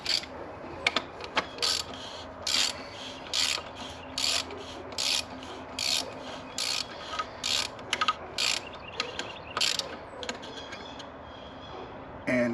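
A drain plug or cap being hand-threaded back into a Jeep Gladiator, giving a run of irregular soft ratcheting clicks and scraping turns, close and fairly quiet, with no talking.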